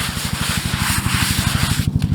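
A brush scrubbing a headstone wet with D2 cleaner, rapid rhythmic back-and-forth strokes in a steady, close, loud scratching pattern.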